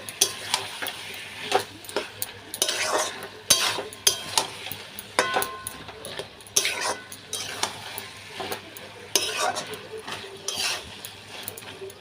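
A spatula stirs lau shak chochori, bottle gourd greens cooked in fish oil, in a pan, giving repeated scraping strokes over a soft continuous sizzle, with brief metal clinks.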